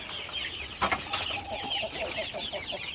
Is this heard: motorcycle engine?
no